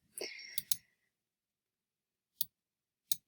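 Sharp isolated computer mouse clicks, two of them well apart in near silence, preceded by a short burst of breathy noise and a couple of quick clicks while editing slides.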